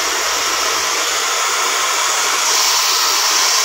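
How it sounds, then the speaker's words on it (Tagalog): A hair dryer blowing hair gives a loud, close, steady whooshing roar that runs without pause and rises slightly in intensity near the end. "Hindi ako marunong mag-blower sa sarili ko."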